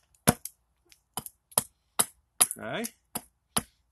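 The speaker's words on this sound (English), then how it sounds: "Now I'm just axing down the end of the handle." An axe chops down the end of a carved wooden spoon handle in sharp, separate knocks, about ten strikes at irregular spacing, with a short word spoken once midway.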